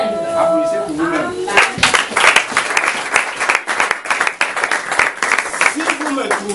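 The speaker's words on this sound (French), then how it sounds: "Applaudissez pour vous-même." A church congregation applauds during a sermon, with lively, uneven clapping and some cheering under a speaking voice that opens the clip and returns near the end.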